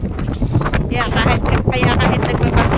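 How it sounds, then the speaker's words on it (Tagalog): Strong wind buffets the microphone outdoors at a basketball court, making loud, gusty rumbling and flapping. Indistinct voices and activity sounds can be heard underneath. "Malakas ang ihip ng hangin."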